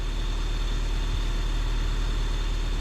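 A 1995 Honda Civic EG hatchback's D15 B7 engine with manual transmission and a suspected ignition coil fault idles steadily and loudly close by, a low continuous rumble with no voices.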